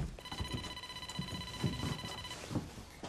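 Telephone ringing indoors in a Turkish TV drama scene, a steady electronic ring tone sustained through most of the moment, moderately quiet, with low background thumps and movement beneath it.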